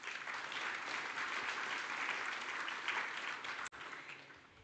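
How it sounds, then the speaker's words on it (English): Faint, even applause from a conference audience thanking sponsors at an oil and gas event in Namibia, a smooth wash of clapping held for several seconds and then briefly cut off near the end. "Let's give them a round of applause"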